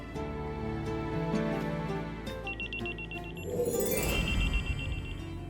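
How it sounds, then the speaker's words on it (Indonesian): A phone ringtone plays a repeated, melodic electronic ring pattern close by, the notes carrying on over a brief shuffling noise, with no talking. "Telepon kamu bunyi, Gus."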